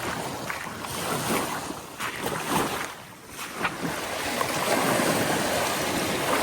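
Steady wind and choppy waves wash against the shore of a large French lake, a loud, continuous rushing roar that swells and dips slightly without pause, with no voices.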